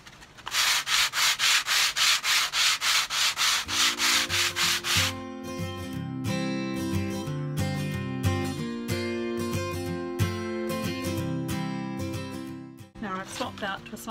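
Sandpaper is rubbed by hand over a wooden chopping board in quick regular back-and-forth strokes, followed by a rougher, irregular scratching stretch, close and fairly loud with no talking.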